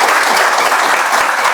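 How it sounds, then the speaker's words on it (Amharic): A seminar audience at a business training session breaks into brief, loud, continuous clapping that fills the room with no other sound on top. "አጨብጭቡልኝ።"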